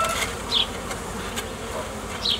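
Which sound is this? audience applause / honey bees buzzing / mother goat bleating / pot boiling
honey bees buzzing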